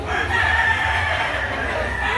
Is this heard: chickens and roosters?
yes